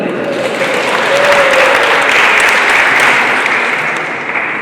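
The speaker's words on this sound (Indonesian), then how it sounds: "Tepuk tangan dulu." A loud crowd of guests at a wedding celebration claps in a full, sustained round of applause that swells in the middle and eases slightly near the end, with a voice briefly audible beneath.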